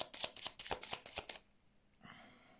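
Tarot cards are riffled in a rapid shuffle for a reading, with a quick run of crisp close flutters and snaps for over a second before stopping, then faint handling.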